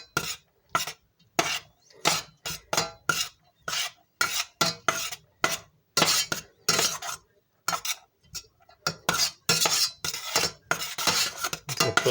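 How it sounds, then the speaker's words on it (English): Turmeric being stirred into a pot for a seitan and tofu broth, a spoon scraping and clinking against the pan in steady repeated strokes, close and continuous without talk. "Just stir it well. Make sure it mixes throughout."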